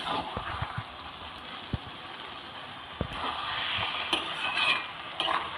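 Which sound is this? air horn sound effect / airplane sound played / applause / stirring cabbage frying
stirring cabbage frying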